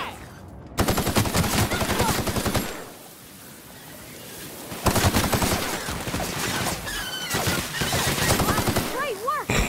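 Rapid bursts of gunfire from The Outer Worlds on PC arrive in loud sustained volleys, separated by a quieter lull midway, with tonal game effects and faint voices appearing near the end.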